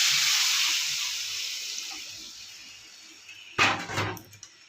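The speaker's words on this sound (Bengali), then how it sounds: "এবার আমি জল দিয়ে দেবো" Water hits hot, oil-released tomato masala for a fish curry, bursting into a loud steamy hiss that slowly fades, followed by a short clatter of a utensil against the pan.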